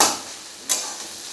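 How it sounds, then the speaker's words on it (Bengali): Sliced onions frying in a pan give a steady hissing sizzle, broken by one sharp stirring scrape partway through. "এই পেঁয়াজ ভাজা"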